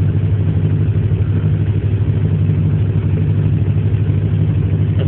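An Oldsmobile 403 V8 fitted with Megasquirt MS3-Pro sequential EFI idles steadily, a loud, close, even low rumble with a slightly raised idle throughout and no talking.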